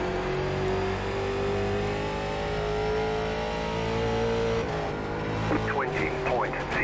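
Late model race car in the iRacing simulator at Myrtle Beach Speedway, a loud steady engine drone that shifts pitch as it brakes for a turn, with someone talking over it throughout.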